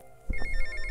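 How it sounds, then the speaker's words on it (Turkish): A phone rings inside GTA Vice City, a repeating electronic ringtone starting abruptly partway through and continuing loud and steady over a low game ambience to the end. "Aha, telefon çalıyor."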